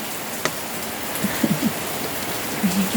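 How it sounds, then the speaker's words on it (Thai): Rain falls in a steady, soft hiss, with a few faint background voices or sounds briefly rising over it. "ฝนตกนะ"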